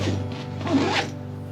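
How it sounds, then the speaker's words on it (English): A zipper is pulled shut on a travel rucksack packed for months of travel. One steady, close zip runs for just over a second, with no talking. "just all zips up very nicely"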